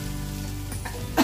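Oregano potatoes fry in a kadai of white oil and butter, giving a close, steady, continuous sizzle with no voices.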